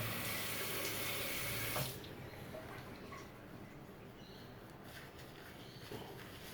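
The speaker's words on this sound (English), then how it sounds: "And what I do is I just drip some water onto the brush" Tap water runs steadily and loudly onto a shaving brush at a sink, then drops to a softer, quieter trickle after about two seconds, close up and with no voices.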